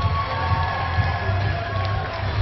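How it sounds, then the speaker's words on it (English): A crowd cheering and clapping for the winner of a boys' competition at a bar, a loud, dense roar of many voices and hands filling the space continuously, close and unbroken. "Applause for Tom."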